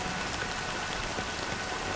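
Steady, dense rain hiss fills the scene in the video game Honkai Star Rail, an even wash of falling drops with no voices.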